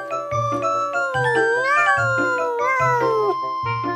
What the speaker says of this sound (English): This cat is broken